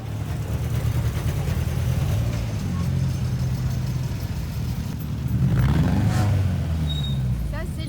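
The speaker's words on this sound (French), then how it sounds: "il y a un autre plateau de voitures qui rentre ou démarre" Vintage sports racing cars rumble and start up at Zolder circuit, with a steady low engine drone swelling briefly near the end, while someone talks over it.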